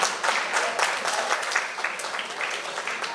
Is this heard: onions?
no